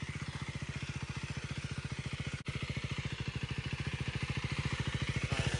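A KTM Duke 390 motorcycle ridden slowly makes a steady, close, rapid thumping engine pulse that holds an even rhythm throughout and rises slightly near the end.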